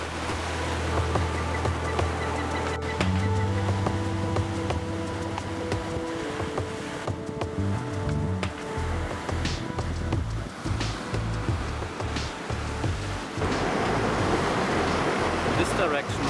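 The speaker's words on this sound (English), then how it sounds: "Imagine to sit at the shore of the real open ocean with black sand and total beautiful solitude." Ocean surf breaks steadily on a black sand beach along the open Philippine coast, a continuous broad wash of waves with swelling rushes, heard under a low musical drone and some voice in the first seconds.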